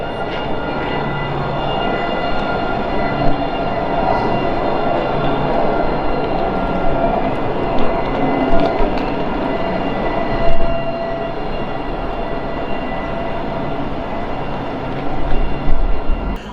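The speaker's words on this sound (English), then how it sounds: "The trams are beginning to roll." A tram rolls past in Hockley, Nottingham, with a steady low rumble and metallic wheel hum, continuous and fairly loud, with a few clunks near the end.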